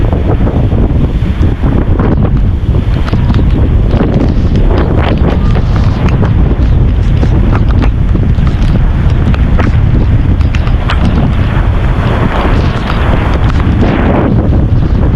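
Strong typhoon wind roars without a break on the coast at Dinahican, Infanta, Quezon, loud and buffeting the microphone, with surf and a faint voice underneath.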